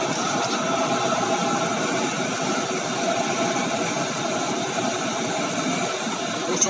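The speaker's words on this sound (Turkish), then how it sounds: "1300 devirdeyiz. 5. viteste şu anda araba." A Fiat Fiorino fitted with a VGT system cruises in fifth gear at about 1300 rpm, its engine a steady, continuous drone with broad road rumble throughout, no talk.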